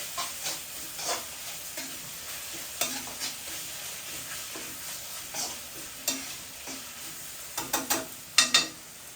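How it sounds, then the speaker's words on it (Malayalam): Pork curry is stirred in a pan, giving a soft, continuous sizzle broken by repeated scraping strokes and sharper spoon knocks that grow louder and more frequent toward the end; no talking. "നമുക്ക് നന്നായിട്ടൊന്ന് കലക്കി കൊടുക്കാം"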